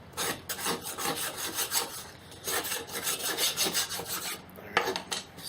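A metal plow blade being scraped and filed clean, heard as steady rhythmic rasping strokes close by, in bursts with a brief pause near the end, no talking.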